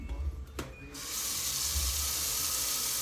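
Tap water gushes into a sink to rinse out a tie-dyed hoodie; after a few soft handling clunks, the faucet opens into a loud, steady splashing rush that continues to the end.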